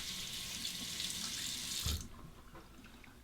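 Tap water running into a sink while a Feather SR Japanese razor is rinsed, a steady close hiss of flowing water that cuts off abruptly partway through, leaving faint drips and quiet handling sounds.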